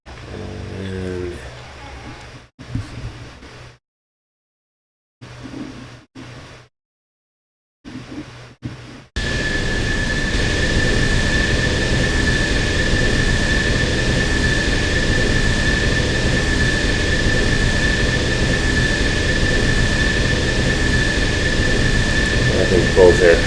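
Steady aircraft engine drone from planes in an Unreal Engine game project, a constant loud hum with a sustained whine that fills the second half after a stretch of brief sounds and silent gaps.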